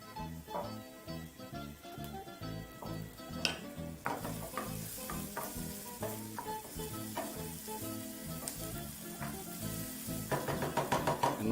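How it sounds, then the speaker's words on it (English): Ingredients for an empanada filling are tossed and stirred in a frying pan over medium to low heat: a continuous close sizzle under repeated scraping stirs, with clinks of utensil on pan growing busier near the end. "toss your ingredients, allowing them to just blend in flavor for about 20 to 30 seconds. Of course, occasionally tossing."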